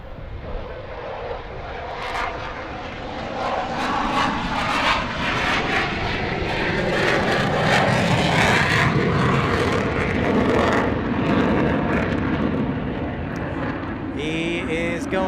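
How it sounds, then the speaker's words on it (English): An F-16 fighter jet flies past an airport, its loud jet roar swelling, holding, then slowly easing off over about fifteen seconds. "There we go, F-16 in the house."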